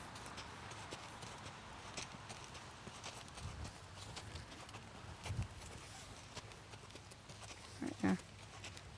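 A Standardbred horse walks on a lunge line with a rider aboard, its hoofbeats coming as soft, fairly distant clip-clops in an irregular rhythm over outdoor background noise.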